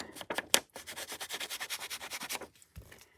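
Ink pad rubbed back and forth over a file folder journal page, a close rhythmic scratchy swishing of about a dozen even strokes, then a brief pause and a soft tap.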